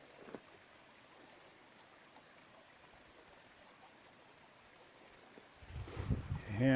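A river runs through a snowy canyon, a soft, steady wash of flowing water heard at a distance, and a louder rustle with handling noise near the end.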